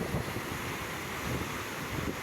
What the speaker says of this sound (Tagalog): agos ng alon.